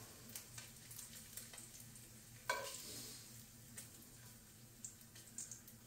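Bacon fries quietly in warm grease, giving a soft, steady sizzle with scattered small pops and one brief louder crackle midway, heard on its own with no voices.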